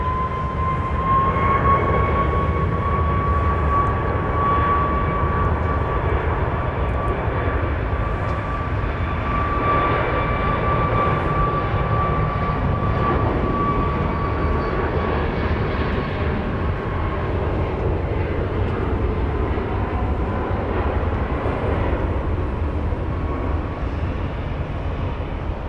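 A Southwest airliner takes off from runway 31 right at Dallas Love Field, a steady loud engine roar holding through the whole stretch with a rising whine, continuous and close with no voices.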